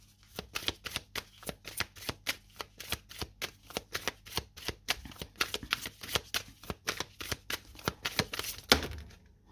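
Oracle cards are shuffled in a quick, rhythmic series of close riffling flicks for nearly ten seconds, ending with a slightly heavier shuffle.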